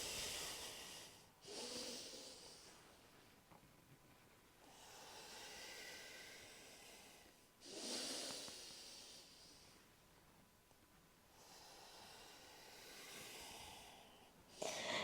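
Slow, audible yoga breathing, long drawn inhales and hissing exhales through the nose or mouth alternating about every three seconds, close and soft with no talk.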